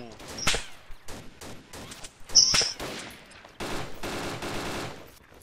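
Video game gunfire crackles in rapid bursts and single sharp shots, a dense fusillade against background game noise, fairly close, with no speech over it.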